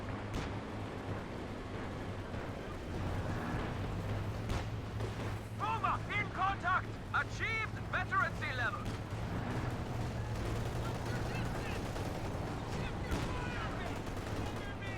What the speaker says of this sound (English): Finally, Stuka opens up.